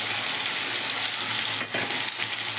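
Chicken masala with turmeric, Kashmiri red chilli powder and ground spice paste frying in a pan, giving a loud, steady sizzle with a couple of brief stirring swishes near the end.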